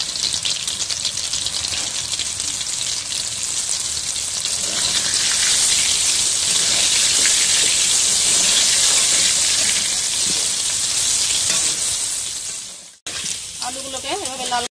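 Chicken fries in a pan with a little salt and turmeric, a loud, bright, close sizzle like rain that holds steady, cuts off abruptly near the end, and then returns with a voice speaking over it.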